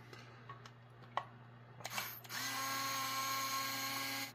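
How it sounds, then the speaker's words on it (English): Ryobi cordless screwdriver with a hex bit backing screws out of a Digitech delay pedal, a steady close motor whine starting after a few ticks and clicks and holding on alone. "I'm using my old friend, the Ryobi cordless screwdriver here."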